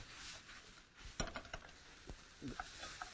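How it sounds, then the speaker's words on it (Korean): Vegetables stir-fried in a pan with a little ketchup give a faint sizzle. Spatula scrapes and stirring clatter come and go in a few soft bursts, with no voices. "이렇게 야채들이 잘 볶아지는 거죠"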